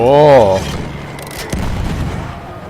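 Gunfire in Battlefield 1, a single heavy boom followed by a rumbling tail, loud and close, with a voice speaking over the start of the shot.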